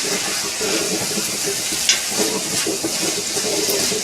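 A flour-thickened vegan sauce with vegetables hisses and sizzles steadily in a pan while being stirred, with a brief scrape near the middle.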